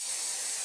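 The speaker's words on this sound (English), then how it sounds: "when I spray it with my sealer" Aerosol sealer sprayed onto thin decal paper, a steady close hiss lasting the whole brief moment with no pauses.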